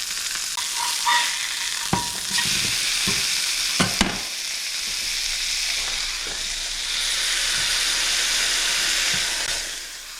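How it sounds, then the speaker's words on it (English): A thick smash burger patty sears on a hot surface after the flip while held down, giving a steady loud sizzle with a few sharp scraping clicks early on and the hiss swelling louder toward the end. "I'm gonna do a hold down for about 15 seconds on this to really get a sear on this other side"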